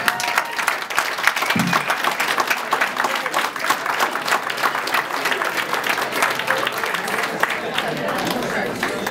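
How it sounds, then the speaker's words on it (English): Wedding guests give the best man a big round of applause, a loud, dense burst of clapping that fills the whole stretch, with cheers and crowd chatter mixed in. "a big round of applause for the best man, Mr. Brian Anderson."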